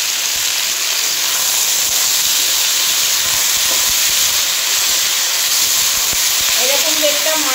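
Chopped onions with salt frying in a pan for a mutton curry, a steady loud hiss and sizzle running throughout, with faint clinks near the end.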